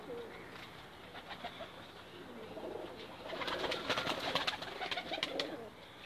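Several breeder pigeons coo in soft, rolling calls inside a loft, overlapping and growing busier toward the end, with faint rustling in the background.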